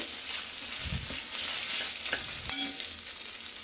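Onions sizzle and fry steadily in a pan for chicken pulao, a close, continuous crackle with a few scraping stirs and no talk.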